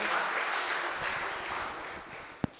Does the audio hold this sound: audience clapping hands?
yes